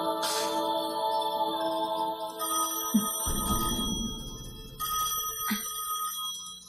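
Electronic phone ringtone in the anime Code Geass, a bright melodic tonal ring that repeats in short bursts for several seconds with brief pauses between phrases, clear and alone.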